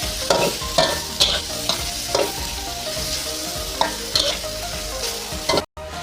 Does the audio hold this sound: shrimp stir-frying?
yes